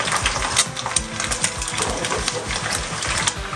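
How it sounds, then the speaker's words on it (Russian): Strong roaring gas stove burner flame on a kitchen hob while eggs are cracked for Thai fried rice, a steady close broadband rush with rapid clattering pulses underneath, no voices. "газ-то какой сильный"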